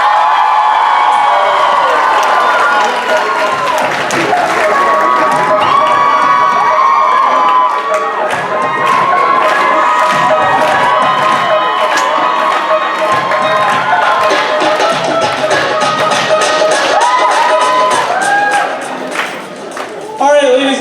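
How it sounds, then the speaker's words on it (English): A high school show audience cheers, shouts and claps for the vice president, Tulsi Shah, a loud, sustained crowd roar with whoops and children's shrieks running throughout. "Let's give a round of applause to our Vice President, Tulsi Shah!"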